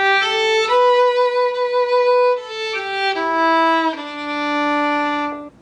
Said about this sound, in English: Moving on, here's the second phrase of the tune.